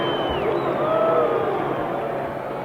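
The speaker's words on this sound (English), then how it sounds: "Now Ali is the recipient of boos from the crowd that cheered him as he entered the ring tonight" Boxing arena crowd in a heavyweight bout booing between rounds, a steady dense roar of many voices with scattered whoops rising above it, sustained and fairly loud throughout.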